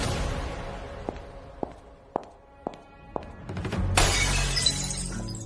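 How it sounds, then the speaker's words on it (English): Glass smashing nearby: a string of sharp, separate knocks and taps is followed by a loud crash of breaking glass that rings out briefly, with no one speaking. "Behind me came the sound of Quentin smashing a glass."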